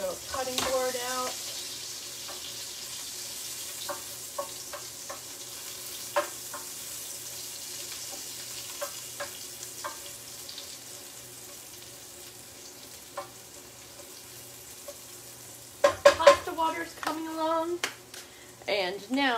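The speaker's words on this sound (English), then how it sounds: "Now let's stir our mushrooms here." Trumpet mushrooms fry quietly in a pan, a soft, steady sizzle broken by scattered clicks and taps of stirring and utensils, with louder clattering toward the end.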